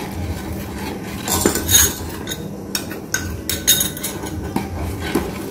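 A spoon adds tapioca starch to a pot of bánh canh chả soup, with close metallic clinks and scrapes against the pot in a few irregular bursts over a quiet kitchen background.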